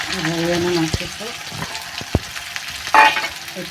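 Small eggplants dropped into hot oil already tempered with mustard seeds and asafoetida, giving a close sizzling hiss with a sharp burst near the end as a voice speaks briefly.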